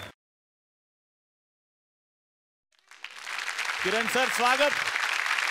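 A studio audience at a Marathi comedy show applauds the actor Kiran Karmarkar. After a near-silent start, loud continuous clapping begins and holds steady, while someone briefly speaks over it.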